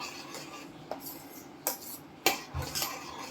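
A spoon stirring boiling milk in a pot for malai kulfi, soft bubbling underneath with a few distinct metallic clinks against the pan, fairly quiet.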